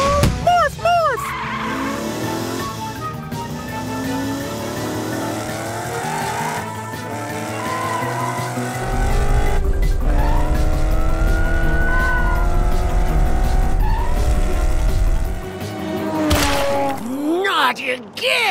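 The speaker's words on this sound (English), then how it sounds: "Morphle, morph into a race car so we can catch Orphle" A cartoon race car roars along with repeated sharp tire squeals and skids over a continuous engine drone, with lively music playing beneath in a Morphle kids' animation.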